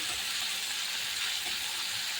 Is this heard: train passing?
no